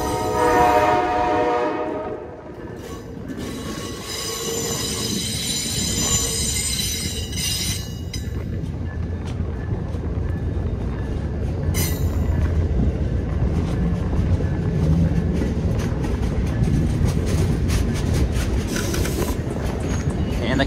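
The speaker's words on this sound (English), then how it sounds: "racing the Amtrak Vermonter" The Amtrak Vermonter passes a station platform at Bellows Falls, with a loud horn blast at the start, then a steady rumble and clatter of wheels on rails with some squealing. The sound is close and sustained throughout.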